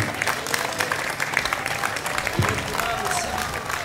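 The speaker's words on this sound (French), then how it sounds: "Applaudissements nourris, s'il vous plaît." An audience at a concert claps in a steady, moderately loud patter of mixed hands, with crowd murmur beneath.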